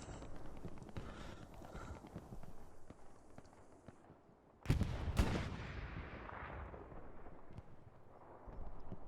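Gunfire rings out in the World War II shooter Hell Let Loose, with a sharp loud burst midway standing out over a busy, rumbling battlefield din of distant shots and movement.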